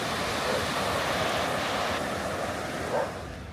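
Steady ocean surf washes continuously with a windy rush at a beach in Hua Hin, Thailand, one slightly louder swell near the end; no voices.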